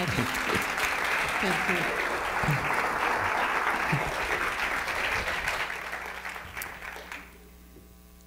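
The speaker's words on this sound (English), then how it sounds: "So another round of applause." An audience at a wellness company's conference session applauds in a dense, sustained burst while someone speaks briefly over it, the clapping fading out near the end to leave a low hum.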